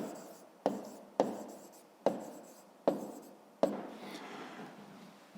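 Handwriting during a maths lesson: five sharp pen or chalk taps spaced about a second apart, each trailing into a short scratchy stroke, close and clear with no talk.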